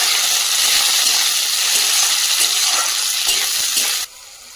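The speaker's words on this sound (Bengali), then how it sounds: "দিয়ে এটাও হালকা করে একটু ভাজা ভাজা করে নেব" Onions, garlic, tomatoes and peas frying in a pan give a steady, loud sizzle with faint stirring scrapes, cutting to a quieter hiss near the end.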